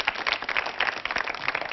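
An audience at a science talk on the vigesimal number system of the Bārelās in Central India bursts into brisk, dense applause, many hands clapping loudly and continuously with no voices over it.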